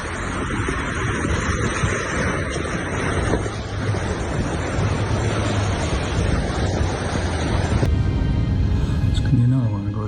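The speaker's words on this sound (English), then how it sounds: "Layers of ocean water surge forward, flooding coastal areas and washing over the land." Ocean water surging over and flooding a coastline, heard as a loud, continuous roar of rushing waves and surf with heavy wind buffeting the microphone, and voices talking over it.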